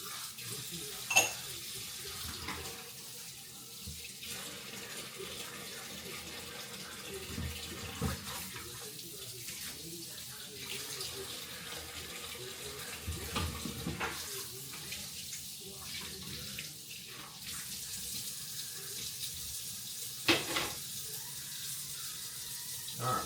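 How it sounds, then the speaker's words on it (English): Hot water runs from the tap of a one-hole kitchen sink during dishwashing, a steady, close, moderate wash of flowing water with occasional clinks and splashes throughout, no talking. "Need to turn off of that hot a little bit before we run our hot water heater out"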